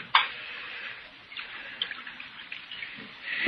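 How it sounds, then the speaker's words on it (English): Liquor splashes from a jug into a cup as a radio-drama effect for a 1957 Western, a steady trickling pour lasting about three seconds, close and fairly quiet, with no voices over it. "Here's the jug, Mr. Hawtrey, and I brought you a cup, too. Pour me some."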